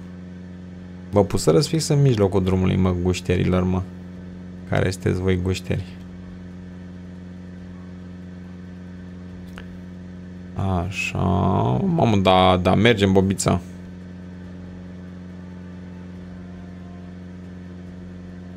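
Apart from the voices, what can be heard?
car engine running while driving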